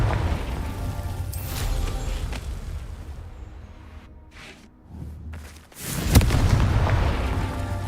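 A Confringo fire spell from the video game Hogwarts Legacy, a heavy rumbling blast that drops into a brief near-silence, then a loud explosive burst and a roaring fiery rumble.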